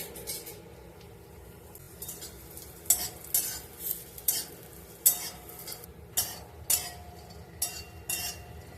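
Grated coconut roasting in a little oil in a pan for a Malvani-style coconut masala, a soft steady sizzle broken by repeated scraping stirs of a spatula against the pan, close and alone.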